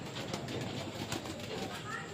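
Pigeons in their loft giving soft, low cooing calls close by, repeating under a person's speech amid light rustling.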